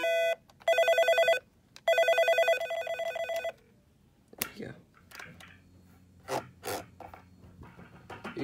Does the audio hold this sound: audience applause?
no